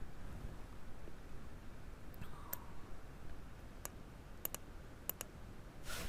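A computer mouse clicks a handful of times while shapes are edited in design software, the faint, sharp clicks spaced apart over a steady background hiss.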